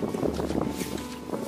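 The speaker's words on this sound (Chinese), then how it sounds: "现在风还是很大的" Strong wind at the seashore after a night-long storm buffets the microphone with a steady low rushing roar and gusty fluctuations, close and continuous, with no voices.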